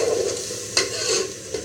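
Chicken breast fries in a pot as it is stirred, a close sizzle broken by a few scraping strokes of a utensil against the pot, with no talking.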